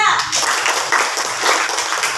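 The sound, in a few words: classroom children clapping hands for presenting groups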